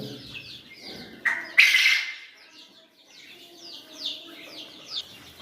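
Caged quails, about sixty layers in a home setup, give repeated harsh squawks and chirps, one loud burst early then scattered calls, fairly close with little talk.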